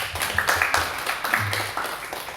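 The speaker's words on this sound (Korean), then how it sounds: "다시 한번 박수 한번 치겠습니다." A church congregation claps briefly. Scattered individual claps come early on and fade, with some low voices and a brief tone mixed in.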